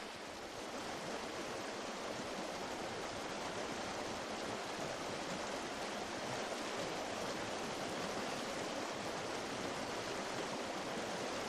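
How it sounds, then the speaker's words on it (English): Steady rushing water from waterfalls spilling into freshwater pools on the outer slopes of a volcano, a dense continuous roar with no pauses and no voices. "creating spectacular waterfalls and freshwater pools on the outer slopes of the mountain"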